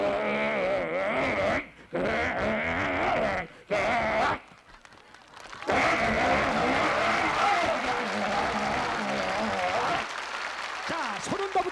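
A person imitates a racing motorcycle with a revving, buzzing voice, interrupted by short pauses, with laughter and chatter around it.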